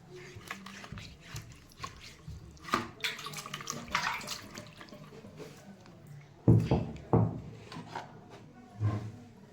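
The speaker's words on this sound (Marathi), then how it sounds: "हे बघा थोडं थोडंच पाणी टाकून पाटा धुवून घ्यायचा" Water is poured a little at a time over a stone grinding slab as it is washed, with irregular splashes and trickles, sharper pours near the middle and end, close by.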